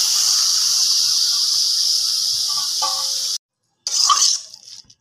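Banana flower dropped into hot oil with spiced potato, a steady loud sizzle and hiss that cuts off abruptly, then a short burst of crackling that fades.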